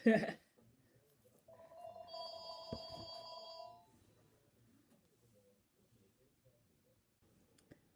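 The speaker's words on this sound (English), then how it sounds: "Stupid phone rang." A telephone rings faintly in a quiet room, a single electronic ring tone lasting about two seconds after a brief knock, with near silence following.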